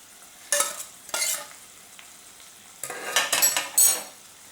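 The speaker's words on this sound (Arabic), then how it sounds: "توا باش نحط البصل، هذايا بقية البصل نحط المعدنوس" Onion and parsley stirred into frying cuttlefish in a pan, bursts of sizzling and utensil scraping in separate strokes, loud and close, with quieter frying between them.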